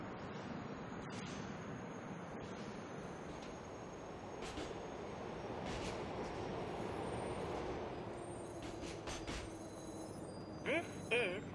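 A subway train in the video game GTA IV rumbles steadily as it approaches Huntington Street Station, a continuous low rolling drone with faint high squeals and chimes near the end.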